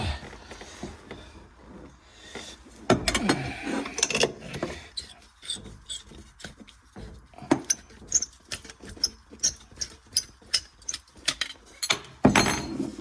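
Copper pipe is cut for an outside tap fitting, a series of close, sharp metallic ratcheting clicks from a pipe cutter in a steady rhythm after some scraping and handling noises, with no talking.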